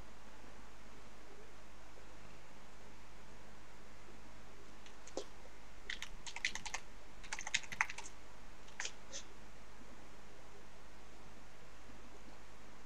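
Keystrokes on a computer keyboard, typed in a short irregular burst of quiet clicks in the middle of an otherwise near-silent stretch with faint background hiss.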